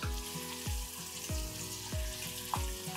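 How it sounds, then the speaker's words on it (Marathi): Slit green chilies and garlic with turmeric and red chili powder fry in a pan for Maharashtrian kadhi pakoda: a steady sizzle runs throughout, broken by regular stirring strokes about every half second. "आता हे चांगलं आपण ह्याला ना भाजून घेऊया मिरच्यांना"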